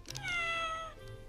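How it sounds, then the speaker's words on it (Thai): One clear cat meow, close and fairly soft, rising then falling over about a second, with nothing else audible. "แมว แมว"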